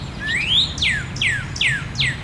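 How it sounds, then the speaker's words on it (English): Birds chirp near a bird bath in the wild: one rising whistle followed by four quick, bright descending tweets in a steady rhythm, clear and fairly close over a low background rumble. "I can hear those birds, zoop, zoop, I can hear those crystal clear."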